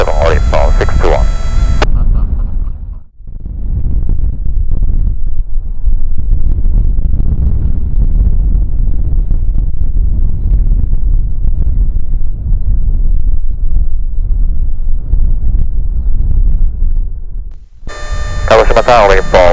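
Heavy gusting wind buffets a microphone outdoors at Kagoshima Airport, a loud rough rumble that persists for most of the stretch, framed at the start and end by clipped radio voices.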